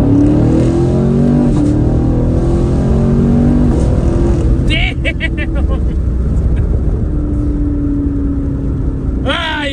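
A Chevrolet Camaro muscle car engine revs hard and climbs through the gears, loud and close, with rising pitch sweeps and upshifts near the end, and someone speaking over it.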